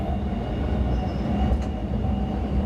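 A RegionAlps train runs on slightly slippery rails in fog and condensation, a steady close low rumble of wheels and motor with a faint high whine above it.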